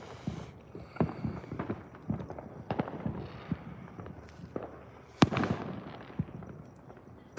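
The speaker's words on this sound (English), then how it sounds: "mortar shells they're shooting off are not inexpensive" Fourth of July fireworks mortar shells going off outdoors, a run of sharp bangs and crackles at irregular intervals, some distant and some closer, with one especially loud report toward the end.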